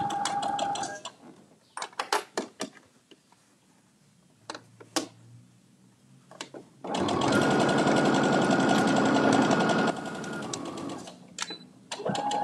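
A sewing machine stitches the side panel of a Sew Together Bag, a loud steady run of about three seconds, preceded by scattered clicks and handling noises of fabric and clips.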